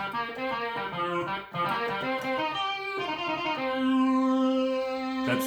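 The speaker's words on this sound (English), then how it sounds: "That's just the Yamaha FB-01." Yamaha FB-01 FM synth module on a So Heavy Synth patch, playing a run of bright, buzzy sustained notes with a few pitch changes and one long held tone near the end, loud and alone.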